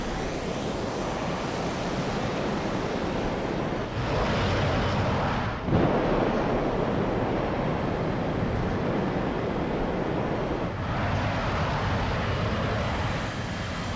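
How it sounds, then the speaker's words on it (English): Steady, loud wind roar rushing past in War Thunder, a continuous broadband gusting whoosh with brief dips around four and eleven seconds, heard alone without voices. "Also a lot more wind noise now."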